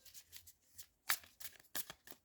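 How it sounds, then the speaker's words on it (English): Deck of tarot cards being shuffled up close: quiet papery riffles and flicks in short irregular bursts, with soft gaps between them. "I've given them a good shuffle."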